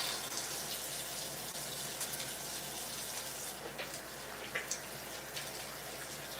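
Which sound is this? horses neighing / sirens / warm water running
warm water running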